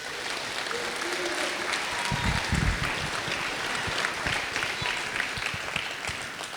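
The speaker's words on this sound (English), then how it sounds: "Give him a round of applause." A round of applause from the crowd at a men's meeting breakfast, a dense, steady patter of clapping that holds for several seconds at moderate distance, with a few brief voices rising near the middle.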